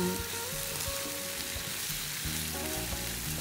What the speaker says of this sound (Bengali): এটা এই মশলাটা একটু ভালো করে কষিয়ে নিই